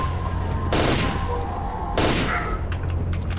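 Two loud gunshot bursts from a firefight against enemies in S.T.A.L.K.E.R.: Shadow of Chernobyl, about a second apart over a low rumbling background, followed by faint clicks.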